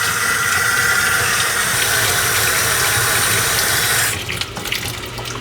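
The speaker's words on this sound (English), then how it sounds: "I'm filling this tub up" Hot water pouring from a tap into a tub, a loud steady gushing that suddenly drops away near the end, leaving a low motor hum and faint splashes.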